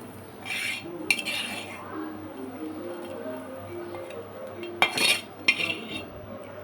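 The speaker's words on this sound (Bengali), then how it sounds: "আগে থেকে ভিজে রেখা লাউর বিচিটা দিয়ে দিচ্ছি দিয়েও এটাকে খুব মিহি করে বেটে নিতে হবে" Soaked bottle gourd seeds and chilies are ground into a paste by hand, with scraping strokes and occasional sharp clinks of the utensils, moderately close and free of talk.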